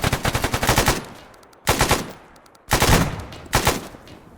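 Automatic weapons fire in bursts during an Arma 3 battle, four loud, close rapid volleys separated by short pauses, each crackling and echoing without any voices.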